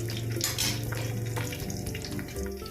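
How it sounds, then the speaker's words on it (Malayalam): Water pours steadily into a biryani pot, a close, full gushing splash lasting a few seconds with a slight clatter of the vessel. "ഇതിലേക്ക് ഇനി വെള്ളം ചേർത്ത് കൊടുക്കാം കേട്ടോ"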